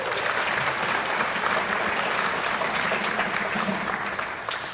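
An audience applauds at an elementary school spring concert, dense steady clapping from a full room that holds throughout and fades slightly at the end.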